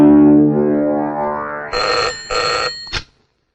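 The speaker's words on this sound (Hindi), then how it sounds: "जा जल्दी शीला के बाप को फोन कर दे।" A telephone rings in a Hindi action film scene, two bursts of bright electronic ringing and a short third, following a sustained low tone, fairly loud and without speech over it.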